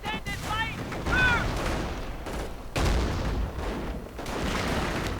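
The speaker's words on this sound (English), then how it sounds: "Grenadiers holding out right here, getting bombarded with rifle grenades and Piat rounds" Rifle grenades and PIAT rounds bombard infantry in a World War II battle game, with repeated heavy booms and gunfire bursts over continuous battle noise, and brief whistling tones near the start.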